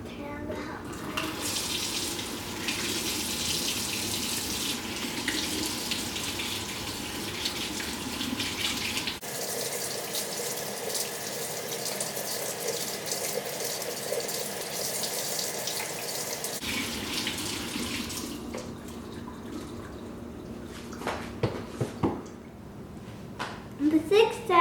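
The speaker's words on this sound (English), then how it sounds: "So turn on the hot water." Hot water pours steadily from a tap into a sink, a continuous hiss and splash that stops near the end, followed by a few faint knocks.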